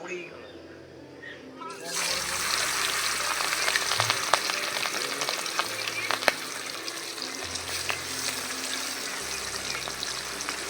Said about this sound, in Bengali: এখন মাছ দেবো, মাছটা ভাজতে হবে